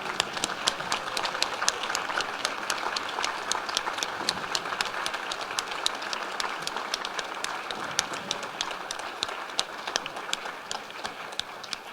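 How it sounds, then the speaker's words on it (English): Applause from a graduation ceremony audience at Vancouver Island University, a moderate, sustained patter of many hands with a few sharper individual claps standing out, fairly distant and without speech. "give a big round of applause for everybody who made it possible"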